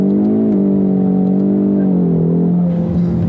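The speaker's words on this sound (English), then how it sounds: "that was damn near 60. That quick. Tripped second to third gear" Ford Mustang EcoBoost accelerating hard on a hot day with traction control off and manual paddle shifting, a loud rising engine drone that dips briefly as it shifts from second to third gear.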